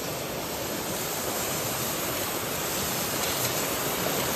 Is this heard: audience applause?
no